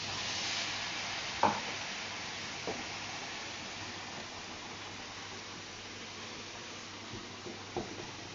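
Carbonara-style ingredients for a healthy whole-wheat pasta sizzle steadily in a frying pan after a splash of water is added, with a few soft scraping knocks from stirring over the continuous close hiss; no one talks.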